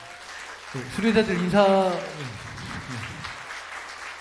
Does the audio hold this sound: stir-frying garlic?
no